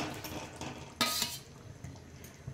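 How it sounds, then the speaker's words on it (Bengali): Potatoes and cauliflower tip into a pan of spiced, yogurt-cooked masala and get stirred, a close mix of scraping, clinking spoon-on-metal knocks and a soft sizzle, with one sharper clatter near the middle. "এবার আমি আলু ফুলকপি সব দিয়ে দিচ্ছি।"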